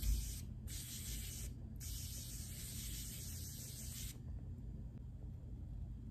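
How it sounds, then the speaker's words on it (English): Makeup setting spray hisses in two quick bursts of fine mist close by, with a softer hiss lingering afterward. "I almost forgot to put on some setting spray because I don't want this to smudge"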